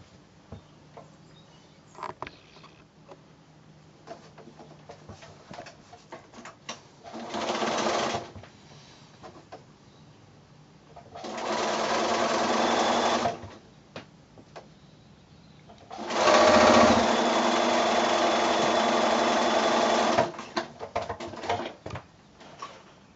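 A sewing machine stitches a fabric strip onto a small friendship star quilt block in three bursts of whirring, the last longest, separated by quiet pauses with small handling clicks.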